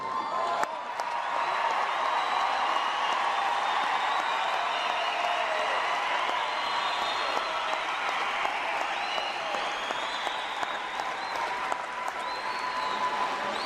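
Sustained, dense applause with a few cheers from a ceremony audience for graduates of a health and human performance college, steady and loud throughout with no talking.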